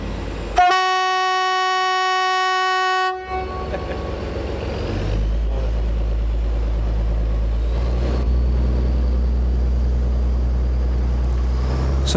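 An aluminum diesel train on a Portuguese railway line toward Porto, opening with a loud horn blast, then the engine's deep rumble and rolling wheel noise building steadily and continuing throughout.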